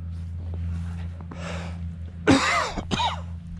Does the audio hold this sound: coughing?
yes